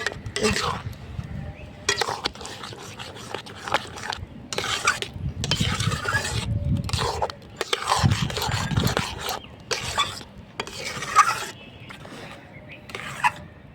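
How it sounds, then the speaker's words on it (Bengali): Semolina kheer mohan being stirred in a kadai with ghee, repeated scraping and rubbing strokes of a spoon against the pan in an irregular rhythm, close and moderately loud with faint sizzling underneath. "এই সুজির মোহনভোগটা কিন্তু প্রথম থেকেই নাড়াচাড়া করতে হবে, নাহলে নিচ থেকে একদম লেগে যাবে।"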